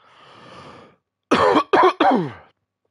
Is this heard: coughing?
yes